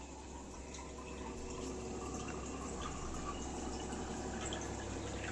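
Steady running water, a continuous rushing splash like water pouring from a tap into a pot, even and unbroken throughout.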